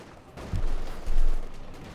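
Gunfire from the Company of Heroes 2 strategy game, a low, muffled rumble of shots swelling in two short bursts over a steady battlefield background.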